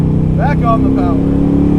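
A Superformance 1965 Shelby Daytona Coupe with a T5 gearbox accelerates as the driver gets back on the power, its engine a steady, loud drone with a rising tone that climbs and settles, close up from inside the cabin, with no talking.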